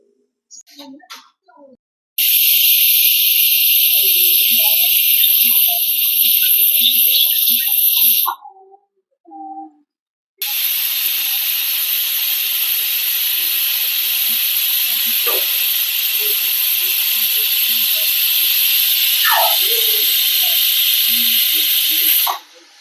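Pressure cooker whistling while seeraga samba chicken biryani cooks, two long, loud, sharp hissing bursts of escaping steam separated by a brief pause, with faint kitchen clatter and a voice heard in the gaps.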